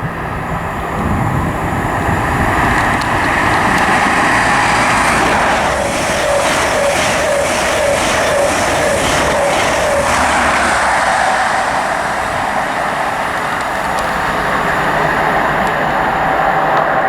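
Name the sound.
LNER HST train passing through Grantham station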